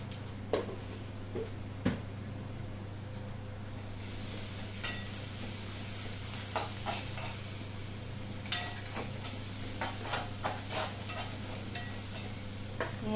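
Cumin, ajwain, mustard seeds, turmeric and salt fry in hot oil for a green-chilli brinjal dish, producing a soft sizzle over a steady hum with scattered sharp pops and taps.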